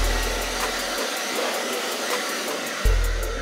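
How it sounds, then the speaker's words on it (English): A hair dryer blows continuously to heat-shrink plastic window insulation film from a Dollar Tree kit, a steady whooshing hum that briefly cuts and restarts near the end. "we're done with the blow dryer part"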